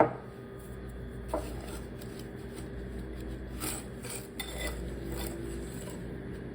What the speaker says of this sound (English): we are going to whisk together the brown and white sugar